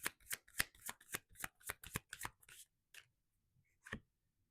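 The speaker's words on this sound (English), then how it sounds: "You saw me shuffle" Tarot cards are riffle-shuffled in quick, crisp bursts, about a dozen sharp flutters in rhythm up close, then a pause and a couple of softer, scattered card snaps.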